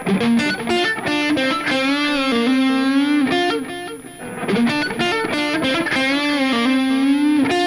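Loud distorted electric guitar with a locking trem plays a fast lick from a solo, bent notes sliding in pitch, continuous and upfront, no voices.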